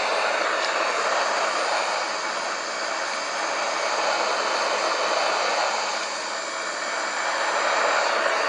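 A Wizz Air Airbus A330 in Microsoft Flight Simulator gives off a steady, even engine roar that holds throughout with only slight swells, with no voices.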